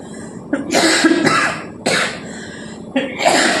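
Three harsh coughing fits, close and loud, each a burst of rough bursts separated by short pauses.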